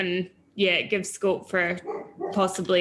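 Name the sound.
dog barking in the background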